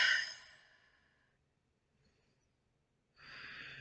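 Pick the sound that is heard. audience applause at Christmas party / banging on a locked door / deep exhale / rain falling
deep exhale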